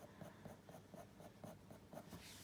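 A graphite pencil drawing fox fur on paper, with quick, even, repeated scratchy strokes pressed firmly, close and faint, roughly four strokes per second.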